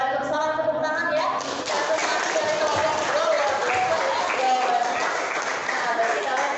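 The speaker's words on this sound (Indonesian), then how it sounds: "Oke, waalaikumsalam, tepuk tangan ya." Students in a classroom guidance session clap as a group after a presentation, a moderately loud patter of hands mixed with chatter and overlapping voices.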